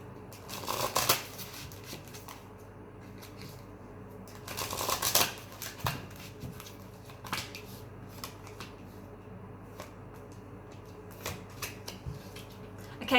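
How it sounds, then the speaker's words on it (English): Tarot cards are shuffled close up in two main riffling bursts, with scattered softer card slaps and rustles between them and no talking. "2 more shuffles."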